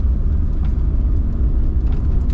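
A Fiat Super Panda driving with its engine low on fuel, a steady low rumble of motor and road noise running continuously without a break, close and fairly loud, with no voices.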